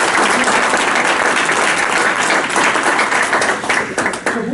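An audience gives three presenters a round of applause, a loud, close burst of many hands clapping that stays dense throughout and loosens slightly at the end.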